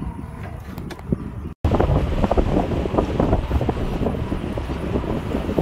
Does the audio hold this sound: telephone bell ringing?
no